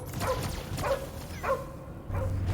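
A dog in the video game Guardians of the Galaxy gives several short yelping whimpers in a row, close and fairly loud, over a low rumbling game soundscape.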